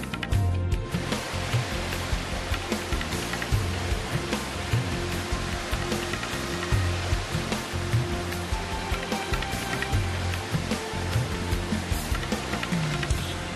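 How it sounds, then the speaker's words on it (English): Man-made fountain waterfall near Delhi airport, a steady, loud rush of falling water that holds constant throughout with no voices, broadband and dense like close cascading spray. "This right here is a man-made marvel. It's not at a natural waterfall that I'm standing."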